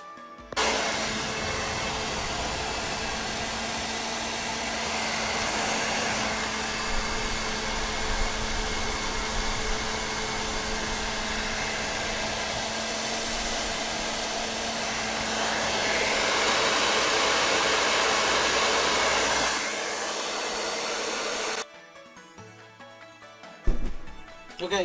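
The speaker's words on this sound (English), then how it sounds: "I might need to use a hairdryer. So that would be step 1. And the hairdryers will melt the glue." A hair dryer runs steadily for about twenty seconds, blowing hot air to soften glue on an Arcade1Up arcade cabinet, a loud continuous whir with slight shifts in pitch that stops abruptly, followed by faint handling noises.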